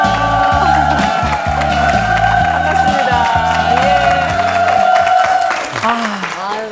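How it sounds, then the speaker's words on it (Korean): Korean TV studio audience on the KBS show 'Women's Empathy' clapping and cheering to welcome a lawyer guest, dense applause over music, fading near the end as someone speaks a greeting. "다시 한번 큰 박수로 맞아주십시오"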